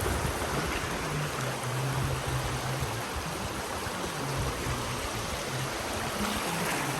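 A clear river stream flows in a steady, continuous rush of water, broadband and even throughout with no talking, close and moderately loud.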